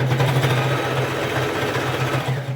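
A sewing machine runs a continuous, loud, close mechanical whir as it stitches a seam on a patchwork rug with a TNT base, with a steady buzzing pulse and no speech.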